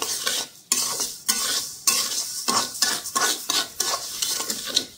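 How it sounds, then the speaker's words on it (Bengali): Black gram dal fries in a pan while a spoon stirs it, giving loud, rhythmic scraping strokes over a soft sizzle, with no voices. "এগুলো হচ্ছে এই যে মাসকলাইয়ের ডাল। ডাল ভাজছি"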